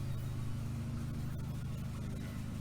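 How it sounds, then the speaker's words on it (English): An old-school car idles steadily with its air conditioning blower running, a continuous low engine hum and broadband fan rush, close and even throughout with no talk. "Car's running. Got the AC blowing."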